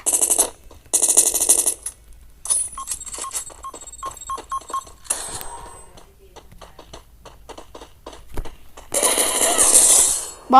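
Gunfire in the mobile shooter Free Fire comes as loud rapid bursts near the start and again near the end. Quieter clicks and game sounds fill the gaps between them.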